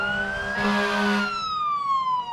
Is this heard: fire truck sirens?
yes